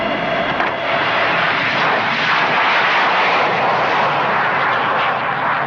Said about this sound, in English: the Ouragan took to the air in its historic first flight.